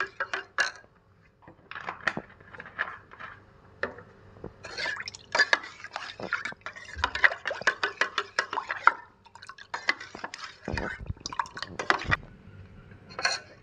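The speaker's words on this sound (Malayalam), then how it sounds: "തേൻ ചേർത്തിട്ട് നന്നായി മിക്സ് ചെയ്യാം." Honey is stirred into thick aloe vera juice with a spoon, and the spoon clinks and scrapes against a glass in quick, uneven bursts. Wet sloshing runs between the taps, close and fairly clear, with no speech.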